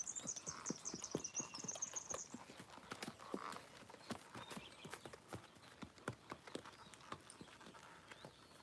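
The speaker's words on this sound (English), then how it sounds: "I'm far more confident on this horse right now" A ridden horse's hooves clip-clop in a steady, close rhythmic pattern of sharp strikes, with faint bird chirps early on and no talk.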